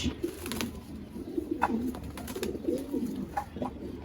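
Pigeons coo softly in repeated low, throaty calls against faint background noise, with several short bursts spread across the stretch.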